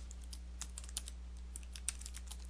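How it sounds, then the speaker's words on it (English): Typing on a computer keyboard while naming a OneNote 2013 tab: a steady run of soft, close key clicks with a few sharper taps, over a faint electrical hum, no voices. "Then type a new name on the tab"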